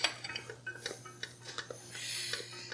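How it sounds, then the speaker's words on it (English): A spoon stirs butter and vanilla into a pudding sauce in a pan, making soft, quick scraping and clinking strokes. The sound is quiet and close, with a faint steady hum underneath. "we're going to stir that in"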